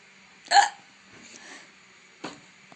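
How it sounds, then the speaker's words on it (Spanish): Three loud, sharp hiccups from a young woman, close to the microphone and spaced unevenly, the first strongest, with faint breathy sounds between them and no speech. "Y lo peor es que es súper escandaloso mi hipo."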